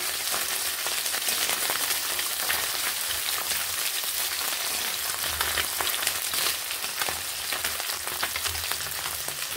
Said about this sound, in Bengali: মাছগুলোর এক পিঠ ভাজা হয়ে গেছে।